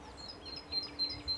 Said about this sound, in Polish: Gdzie jest ta sikorka?